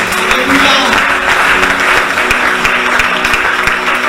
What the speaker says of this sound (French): Est-ce qu'on peut acclamer très fort aussi?